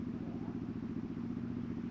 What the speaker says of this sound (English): there's some kids outside where I'm parked right now on a loud motorbike